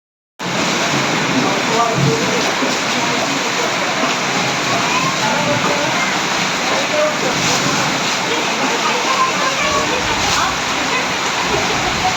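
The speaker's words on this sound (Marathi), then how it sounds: "पण उलटा सुद्धा पाऊस येतोय" Heavy rain pours down in a loud, steady wash of water that fills the whole span without pause, with speech faintly mixed in.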